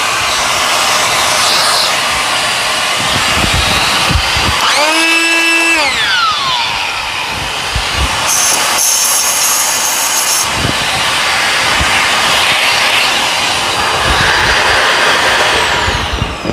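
A Dyson Ball Animal vacuum cleaner runs at increased suction with a loud, steady motor roar. Midway, a whining tone rises and then falls in pitch, and the drone continues close and unbroken.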